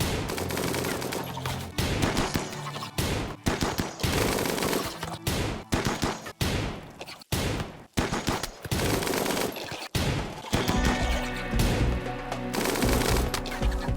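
Rapid bursts of automatic gunfire pour onto an insect hive in the Rimworld video game, loud and close, coming in dense clusters broken by short pauses.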